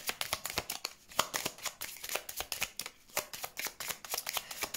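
Tarot cards shuffled and laid out by hand, a rapid run of crisp riffling snaps and papery slaps in uneven bursts, close and fairly quiet, with no voice.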